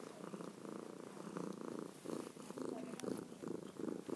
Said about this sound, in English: let's take an audio of his purring